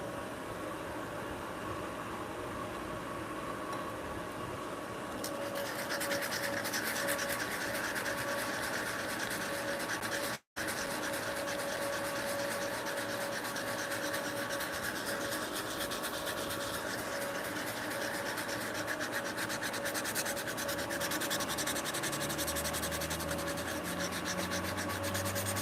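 Steady hand sanding on a wooden heart-shaped mallet, a continuous close scratchy rubbing that runs almost without pause, with a low hum in the background.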